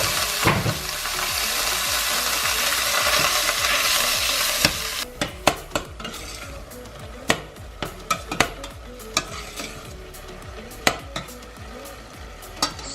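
Minced meat sizzles in hot oil in a pan while cooking meat pie filling, a loud hiss at first, then quieter frying under repeated sharp scrapes and clinks of a utensil stirring against the pan.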